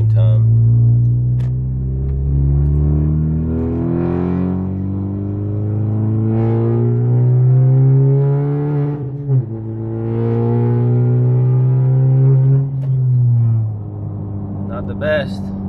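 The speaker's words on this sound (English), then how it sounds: "Let's see if I can film, shift, and drive all at the same time." Engine of a 10th-generation Honda Civic Si pulling through the gears on the way to the interstate, a steady loud drone rising in pitch and breaking off at each shift, with a person talking over it.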